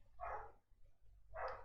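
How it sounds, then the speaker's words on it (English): Two bursts of dog barking about a second apart, fairly close and loud, over a low steady hum, with no talking. "Sorry about the dogs."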